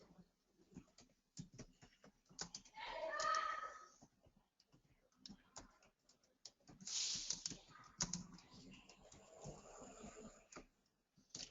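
Computer keyboard typing during a Selenium programming lesson, irregular clusters of key clicks with a few louder bursts of rapid keystrokes, fairly quiet and close, with no talk.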